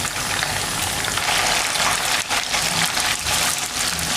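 Chicken pieces fry in hot oil for chicken Manchurian, producing a loud, steady, close sizzle that hisses continuously with brief crackling dips.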